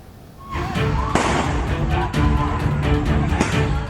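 Firecrackers thrown back and forth between two groups of teenagers in a street brawl on Jalan Transyogi, Cileungsi, Bogor, with sharp cracks and bangs repeating over a loud, busy crowd din.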